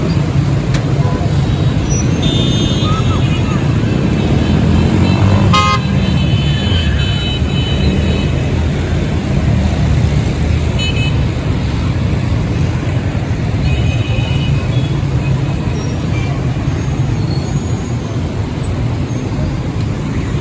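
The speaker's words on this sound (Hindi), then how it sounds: "बेतुकी ट्रैफिक चल रही है" Dense, chaotic city road traffic at Regal Chowk on Mall Road keeps up a steady, loud roar of engines and rumbling vehicles, with short horn toots breaking through now and then over the continuous din.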